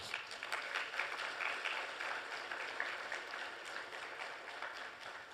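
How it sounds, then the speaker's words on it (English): A round of applause for a minister and officials at a formal event, steady scattered clapping from an audience heard at moderate distance throughout. "I think they deserve a round of applause."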